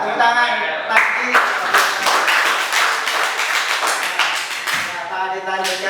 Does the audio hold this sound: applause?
yes